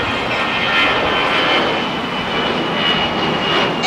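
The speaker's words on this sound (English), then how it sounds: "And now just beginning his taxis here on the 25, ladies and gentlemen, is our American 777." An American Airlines Boeing 777-300ER jet taxiing on runway 25 at LAX, heard as a loud, steady engine roar that holds throughout with no gaps or pauses.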